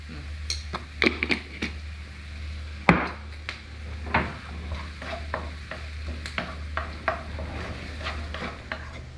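Chopped onion frying and being stirred in a pan, giving a steady soft sizzle with intermittent scraping and clinking strokes of a utensil against the pan, close by, with no talk.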